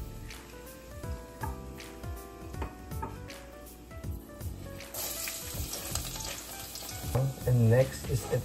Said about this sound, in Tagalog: i-fry muna natin siya